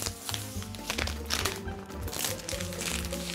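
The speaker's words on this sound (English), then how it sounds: "now let's unwrap this machine" Cricut Maker cutting machine being unwrapped from its packaging, with busy crinkling and rustling of wrap and cardboard throughout, close and fairly loud, plus a few sharper crunches.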